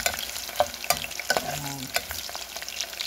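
Ginger sautéing in a pan for arroz caldo sizzles and crackles steadily, with a few sharp stirring scrapes and clicks close by.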